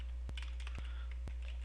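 Keystrokes on a computer keyboard during spreadsheet data entry in Excel: three sharp, evenly spaced clicks about half a second apart, close and clear over a steady low hum, with no talking.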